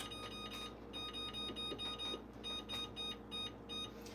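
A kitchen timer alarm beeps in a steady repeating pattern, sounding as a series of short electronic bursts at moderate level over faint room noise.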